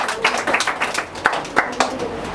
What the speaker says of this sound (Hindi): जॉब, ताली ताली ताली ताली।